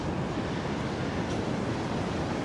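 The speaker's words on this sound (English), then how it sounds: "Nice waves in the background." Ocean surf washing onto a beach forms a steady, broadband rush with no clear individual breaks, continuous and fairly close under light wind noise, with no voices.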